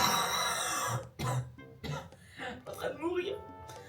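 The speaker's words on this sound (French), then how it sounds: "Non mais abusez la toux en fait." A young woman coughs several times in a chill weekend vlog setting, rough bursts broken by short pauses and mixed with her own talk, close and fairly loud.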